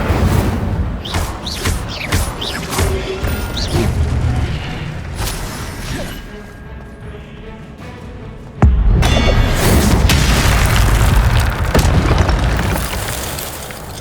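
Incendio fire spell explosions in Hogwarts Legacy, heavy booming bursts and whooshing flames in repeated loud waves, with a sharp blast partway through followed by sustained roaring fire.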